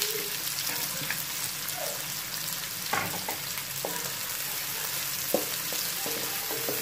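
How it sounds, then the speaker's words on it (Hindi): Sliced onions frying in hot oil on medium heat for bhindi masala: a steady close sizzle and crackle throughout, with a few soft stirring scrapes and clinks, no talking. "अब हम इसी ऑयल में प्याज डालेंगे।"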